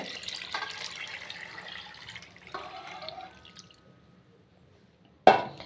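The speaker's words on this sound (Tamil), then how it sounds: "இப்போ வந்து புளித்தண்ணியை வந்து சேர்த்துக்கிறேங்க" Tamarind water is poured into a pan of fish curry, a soft, steady liquid splash for about three seconds, then a quiet pause and a sharp knock near the end.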